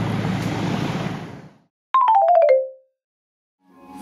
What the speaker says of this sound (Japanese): 電話っぽい